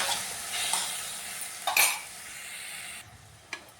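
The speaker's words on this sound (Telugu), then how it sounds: "టమాటా, అందులోకి కొంచెం చింతపండు అండి వేసేసి మంచిగా మగ్గనివ్వాలి." Tomatoes with tamarind cooking in a pan on a stove, with a steady close sizzle, a few quick stirring scrapes and light utensil clinks, and no voices.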